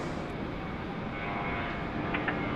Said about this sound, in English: we've got a Jetstar 988 off to Perth. Just getting away here as well.